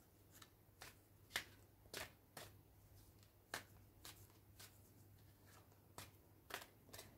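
Soul's Journey oracle cards are shuffled by hand in a quiet room, a series of crisp riffling bursts and soft slaps at irregular intervals, faint and close.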